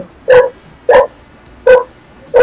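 A dog barks in four short, loud, evenly spaced yaps close by, with quiet pauses between each bark.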